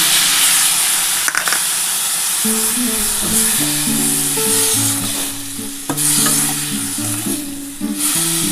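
Ginger and green chillies fry in hot oil with a loud, steady sizzle and hiss, close up, while a utensil scrapes and stirs through the pan at intervals; nobody speaks.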